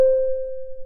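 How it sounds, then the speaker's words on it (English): A steady electronic signal-alert tone from the Tube Sim train simulator game sounds as a single continuous pure beep, clear and alone for about a second. "A signal alert sounds like this."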